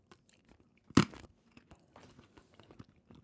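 Freeze-dried sweets bought from TikTok Shop crunched between the teeth: one sharp, loud crunch followed by softer crackly chewing, close up with no talking.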